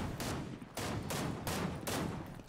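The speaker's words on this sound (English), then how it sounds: "I hear a lot of shooting around here" Gunfire from the Super Smash Bros fighting game featuring Goku, heard as four loud, rapid bursts of shooting separated by brief gaps, with no voices over it.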